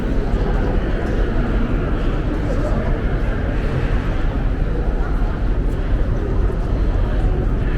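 A huge airport terminal in Munich fills the space with a steady, dense murmur of crowd and broadband hum, constant loudness with no single event standing out.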